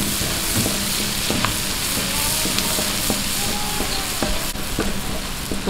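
Loud, dense sizzling of ingredients frying in hot oil for a Filipino creamy sipo egg dish, steady and close with scattered small pops and occasional spatula taps, no talking.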